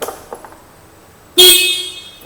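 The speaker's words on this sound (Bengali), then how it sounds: "আমি হর্নটা দেখিয়ে দিচ্ছি আপনাদেরকে" A single loud, steady horn blast from a 2026 Yamaha Ray ZR 125 Street Rally Hybrid scooter starts abruptly partway in and holds for under a second before tapering, after quiet background with faint clicks.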